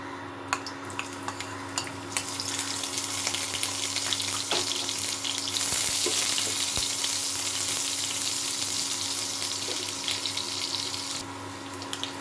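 Chopped garlic and green chili sizzle in hot mustard oil in a pan, a dense continuous frying hiss lasting several seconds with scattered small pops and clicks and no talking.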